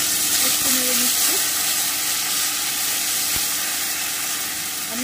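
Roughly a spoonful of cumin paste sizzling in hot oil in a pan while being stirred, for a cabbage kofta curry; a soft continuous hiss with a few faint scrapes, no voice heard.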